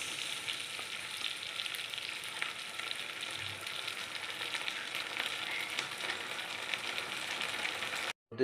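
An egg and cornflour mixture hits a hot pan and gives a constant, fairly loud sizzle that runs unbroken for several seconds before a sudden cutoff at the end.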